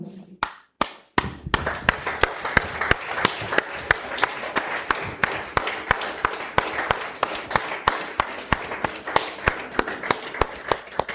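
A church congregation claps in honour of mothers on Mother's Day, a steady crowd of hand claps that settles into a rhythmic, fairly even beat after a few sharp opening claps.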